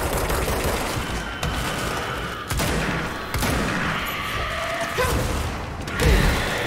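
Rapid bursts of gunfire crackle in the video game Control, loud and close, with several sharp volleys and mechanical clanks in quick succession.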